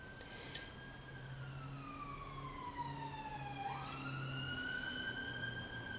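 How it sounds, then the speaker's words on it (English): An emergency vehicle siren wails somewhere down the road, its pitch sliding slowly down and then sweeping back up, steady and fairly faint against low background hum, with no voices. "Wonder if this siren's ought to do with the screech we've just heard of the car."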